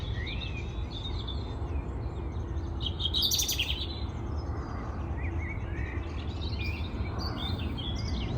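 A bird sings near a large Magnolia longifolia tree coming into bloom at sunset, its chirps and tweets repeating in scattered phrases over a low, steady outdoor rumble, with no one talking.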